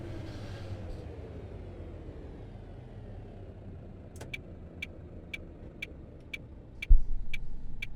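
A truck engine in a truck simulator video game rumbles low and steadily, then a series of evenly spaced ticking beeps sounds, followed by a deeper surge of engine power as the throttle is worked near the end.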